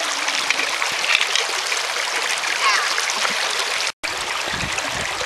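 Creek water flows steadily in a close, continuous broadband rush with small splashes, at a salmon fishing spot where humpies are flopping around; the flow cuts out briefly near the end before resuming.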